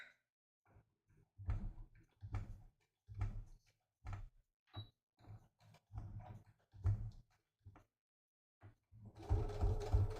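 A sewing machine slowly top stitches through thick layers of fabric with a jeans needle, running in short halting bursts of low rhythmic thumping separated by pauses, close and alone without talk.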